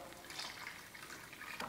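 Mutton cooking water poured into a simmering mutton kulambu, a soft continuous liquid splash and trickle at low level, running steadily close by with a brief brighter splash near the end.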